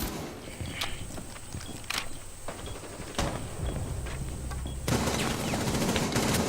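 Rapid gunfire bursts crack through a Rainbow Six Siege match, sharp shots at irregular intervals over a busy, noisy game backdrop, with the mix swelling louder near the end.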